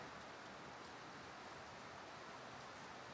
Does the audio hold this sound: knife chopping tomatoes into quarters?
no